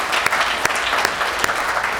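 An audience at a veterans salute event at a county college gives a choir a lively round of applause, dense steady clapping with a few sharper, louder claps standing out close by.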